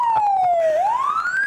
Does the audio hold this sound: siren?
yes